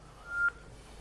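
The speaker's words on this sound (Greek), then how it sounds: "Τα σφυριστράκια." A small toy whistle gives one faint, short, high tone that swells for a moment and stops against a quiet background.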